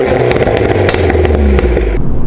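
A Mini John Cooper Works GP2 fitted with a Ragazzon exhaust roars loudly and steadily up close, its throaty engine note dominating throughout with no talk over it.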